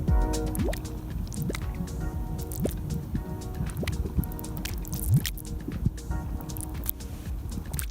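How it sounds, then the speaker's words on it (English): Bubbling mud at the Gobustan mud volcanoes in Azerbaijan, thick wet plops, squelches and gurgles popping irregularly and close up, with continuous low liquid churning underneath. "Gobustan's mud volcanoes sure know how to make an ASMR video."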